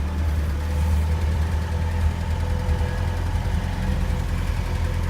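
A Scout 80 engine idles with a steady, low rumble and a faint mechanical knock, close and unchanging throughout.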